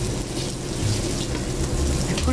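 Scallops searing in vegetable oil on a 150,000 BTU burner in a noodle house kitchen, a steady, dense sizzle with a low burner roar running throughout, close and loud.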